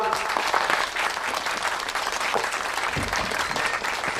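Sustained applause from a gathered audience welcomes a woman at a small ceremony at a food factory, a dense, even patter of clapping that carries on for several seconds.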